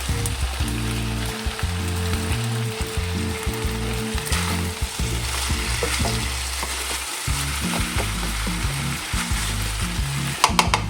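Tomatoes join stewed vegetables in a hot pan for a Tuscan Elba vegetable stew, producing a constant close sizzle and frying hiss with occasional stirring scrapes and no talking.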